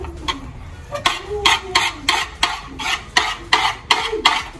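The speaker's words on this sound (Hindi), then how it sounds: "धीरे धीरे स्टर कर अच्छे से" A spoon stirs spring roll mixture in a pan with quick, repeated scraping strokes, a rhythmic series of bright clatters against the metal, close and fairly loud, with a faint voice-like hum underneath.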